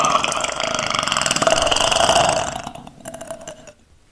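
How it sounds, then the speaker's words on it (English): A long, loud, rumbling burp lasting a couple of seconds, then trailing off into quieter gurgling grunts. "produced a massive burp in both of their faces"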